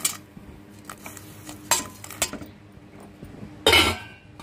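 Ragi flour and jaggery being stirred in a metal pot with a ladle, giving a few scattered scrapes and clinks against the pan and one louder clatter near the end.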